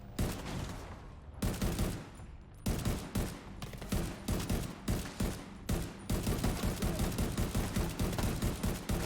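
A DMR rifle fires in The Division 2 in rapid, punchy bursts of repeated shots with brief pauses between volleys, loud and close, and no one speaking.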